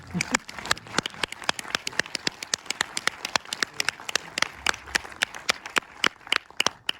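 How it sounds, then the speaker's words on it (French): An audience at the Méliès cinema in Montreuil claps for actress Zar Amir Ebrahimi, a sparse, crisp spatter of individual hand claps running steadily through the whole stretch, fairly close, with no talking. "Vous pouvez l'applaudir parce qu'elle est vraiment là quand même."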